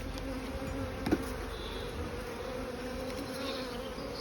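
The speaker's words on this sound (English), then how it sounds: "There's quite a few bees in that box there." Honeybees in an open hive box during a swarm inspection give a steady, close buzzing drone that holds evenly throughout, with a brief knock partway through and no talking.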